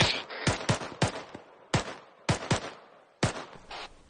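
Gunfire in a military video game squad drill: about seven sharp, loud shots in irregular bursts, each cracking hard and ringing briefly, with near silence between the volleys.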